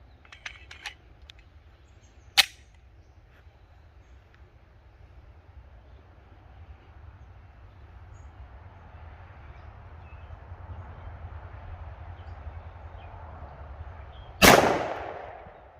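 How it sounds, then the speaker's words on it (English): Two sharp gunshots from a .45 ACP pistol loaded with .45 GAP rounds, aimed at a B8 target on an outdoor range: a crisp crack early on, then a louder, nearer blast near the end, with light wind rumble between. "I'm gonna do 3 rounds for accuracy on that B8 target"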